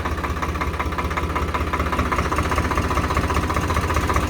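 A Swaraj 735 XT 4WD 45 HP tractor engine idles steadily nearby with a rapid, even diesel knock and a constant drone, no voices present.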